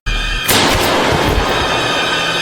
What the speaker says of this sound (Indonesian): Owens terpaksa menembak lantaran si dokter tidak nurut